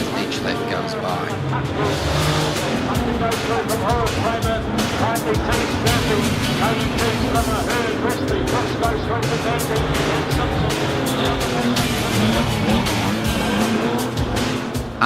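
8N stock cars race on a track, with a continuous roar of engines and tire noise throughout as a person talks over the action.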